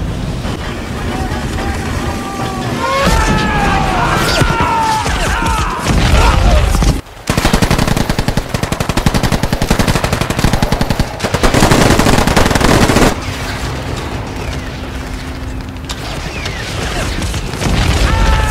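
Bursts of gunfire and booms form the sound effects of a toy army men stop-motion battle. Loud, dense machine-gun rattles and blasts fill most of the stretch, with a brief gap near the middle, and voices are mixed in over the shooting.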